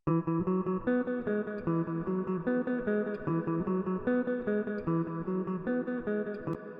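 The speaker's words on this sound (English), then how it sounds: "And this guitar is panning from the left to the right" An electric guitar repeats a quick, rhythmic three-note pattern of short picked notes, panning from left to right, with a clean, steady pulse, played alone.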